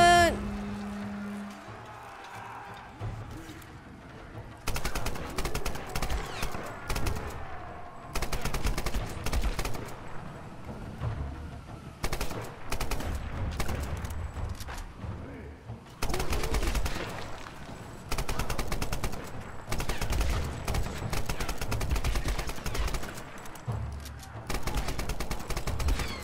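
Gunfire in Tomb Raider (2013), repeated loud bursts of shots in several clusters separated by quieter pauses, fairly close.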